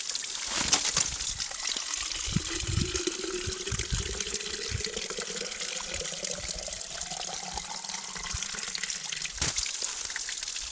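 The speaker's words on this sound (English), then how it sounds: "find a little freshwater spring like this" Water from a small freshwater spring trickles and splashes gently close by, a soft continuous burble with occasional louder drips.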